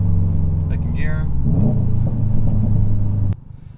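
Car engine revving during a manual shift into second gear: a loud, steady low rumble with a rising note in the middle, then dropping off sharply near the end, while someone talks over it.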